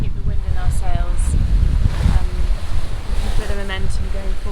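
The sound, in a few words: ocean swell and wind while sailing a yacht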